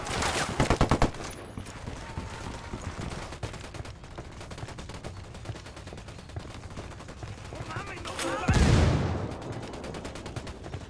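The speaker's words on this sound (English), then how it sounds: "Opening fire." Gunfire in the video game Ghost Recon Wildlands: rapid automatic bursts open loudly, then scattered shots and a heavier blast later sit over a busy game soundscape.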